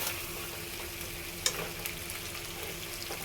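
Chicken and masala being braised in a pan over the heat, giving a steady, close sizzle with stirring and one sharp clink of the utensil midway; no one speaks.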